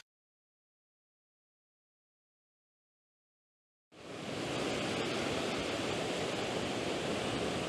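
Steady rain falls on a lake shore in Queenstown: after nearly four seconds of silence, a dense, even hiss switches on abruptly and holds at full strength to the end.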